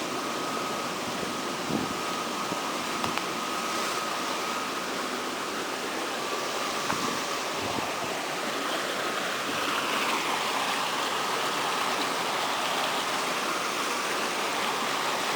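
Untreated water pours straight through an outlet, bypassing the cooling stage, and falls into a river in the Illintsi district; a steady, continuous rushing wash holds at an even level throughout, with no voices.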